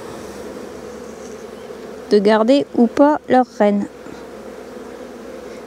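Honeybees buzzing in an open hive during a brood inspection, a steady low drone running throughout beneath someone speaking French.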